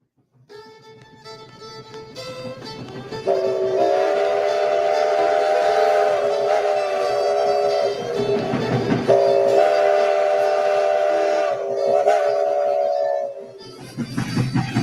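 A steam train runs steadily under a loud, sustained whistle blowing for about ten seconds, with rumbling rail noise throughout and a brief burst of chuffing toward the end.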